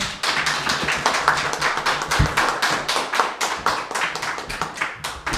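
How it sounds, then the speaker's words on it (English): An open mic audience claps together for a few seconds, a dense patter of many hands, fairly close and steady, with no talking over it. "Another round of applause for Becky"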